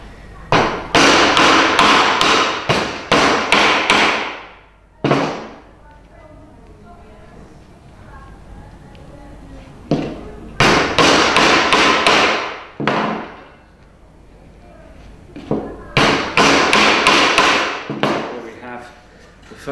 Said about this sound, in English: And then we'll grab a hammer.